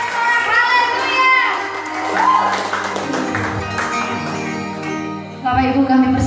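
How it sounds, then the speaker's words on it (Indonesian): At a Christmas Eve church service, the congregation erupts in lively cheering, shouts and clapping for the glory of God, loud overlapping voices rising and falling with a sudden fresh burst near the end. "selamat kita tepuk tangan lebih meriah lagi untuk kemuliaan bagi nama Tuhan kita sambut dia dengan sorak-sorak haleluya"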